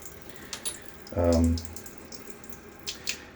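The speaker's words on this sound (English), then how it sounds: "I'm rinsing out my razor here as we speak." A tap runs briefly to rinse a Razorock Baby Smooth safety razor at a sink: a single half-second gush of water, faint and close, amid quiet clinks and room hum.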